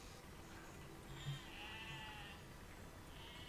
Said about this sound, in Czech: Co ta ovce dělá?